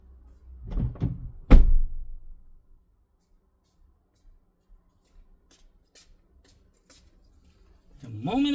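The door of a Honda Ridgeline pickup is shut, giving a couple of solid, close thuds in quick succession, followed by near silence and a faint voice at the end.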